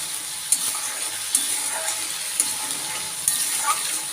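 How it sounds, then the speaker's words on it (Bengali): A spoon scrapes and stirs through a mustard and poppy seed paste with salt and turmeric, giving soft, regular strokes about once a second over a faint sizzling hiss in the background. "সরষে পোস্ত ভালো করে মিক্স করে নেব"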